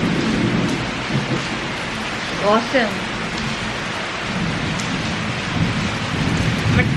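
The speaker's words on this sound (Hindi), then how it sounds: "तो बारिश हो रही थी, मुझे लगा आके दिखानी चाहिए आप लोगों को।" Steady rain falls through a dark afternoon, a dense close hiss with a brief voice heard over it.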